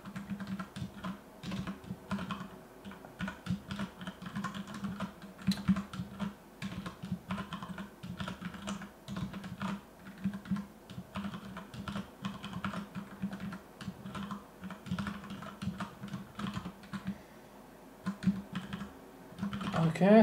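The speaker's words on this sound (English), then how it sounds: "the tablet I use for the diagram is kind of in my way when I type on the keyboard" Continuous typing on a computer keyboard, quick irregular key clicks in a steady patter close to the microphone, with no talking.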